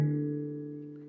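A single handpan note struck too hard, with its pitch bending at the attack before settling into a sustained, metallic ringing tone that slowly decays and stays alone and fairly soft.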